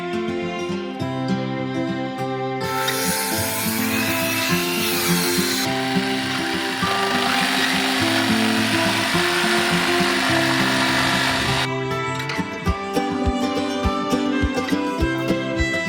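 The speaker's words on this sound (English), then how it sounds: "the furrings are being cut which will enable the slope required for drainage" Timber furrings being cut for a flat roof's drainage slope, a loud, steady power-saw whine running almost continuously, with a sharper, brighter cutting burst in the middle and rattling, knocking handling noises at either end.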